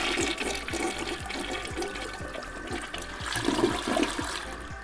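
Toilet flush sound effect: a loud rushing gush of water swirling and draining for several seconds, with no voices.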